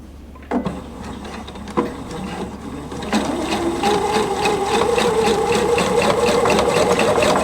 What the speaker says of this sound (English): I'm going to sew a row of stitches 6mm away from the first one.